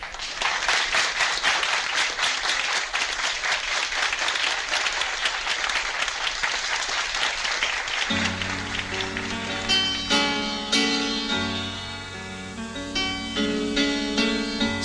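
A concert audience applauds a singer taking the stage, a dense, loud wash of clapping that gives way midway to music starting up beneath the fading applause.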